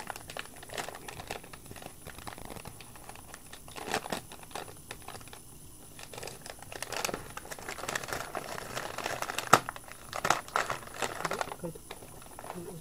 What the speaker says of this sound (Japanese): じゃあちょっと開封したいと思います